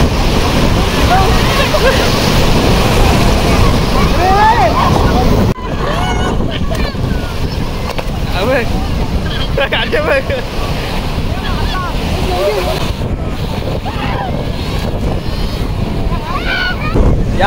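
Sea waves at Ganpatipule beach in Konkan, rolling and washing in steadily with heavy wind buffeting the microphone, while people talk and laugh nearby.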